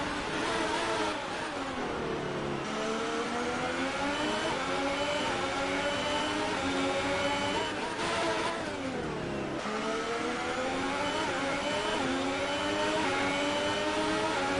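Race car engines in F1 2018, a Renault-powered car against a Ferrari, scream continuously at high revs, pitch rising through gears with brief dips at gear changes, loud and close with no talk.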